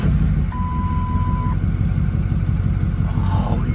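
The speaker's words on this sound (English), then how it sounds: "The F350 is alive with its new turbine." A Ford F350 with a 6.0L Powerstroke diesel idles loudly and close by on a freshly installed turbo, a dense, steady rumble with a thin, high tone briefly whining over it.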